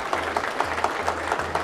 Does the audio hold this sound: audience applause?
yes